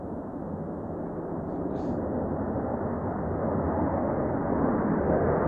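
Turkish KAAN military fighter jet passing overhead, a broad, steady roar that swells slightly louder as it continues, distant and alone with no talk.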